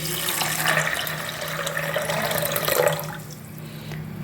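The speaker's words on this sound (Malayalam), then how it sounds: "ഗ്രീൻ പീസിൻ്റെ ഒപ്പത്തിന് വെള്ളം ഒഴിച്ച് കൊടുക്കാം" A steady stream of water pours into a pressure cooker pot of green peas, a continuous splashing rush that tapers off near the end, with no talking.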